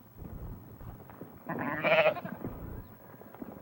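A sheep bleats once, clear and fairly close, on the bleak central highlands of Ethiopia, with a soft farmyard murmur around it.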